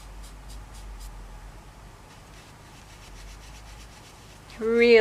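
A pastel pencil rubs across paper in soft, repeated scratchy strokes, faint and close, ending with a brief louder voiced sound.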